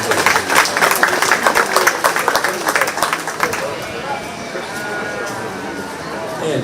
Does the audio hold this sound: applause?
yes